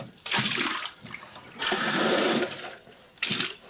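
Water from a dog's drinking bowl is poured out in several splashing bursts, with short pauses between them and one long, loud stream in the middle.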